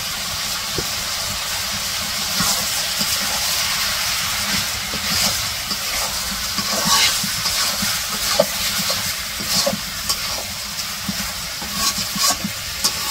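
Vegetable peels, about a kilogram, added to a pan of fried spices in a village kitchen, sizzling with a steady hiss and occasional crackles and pops, continuous and fairly close.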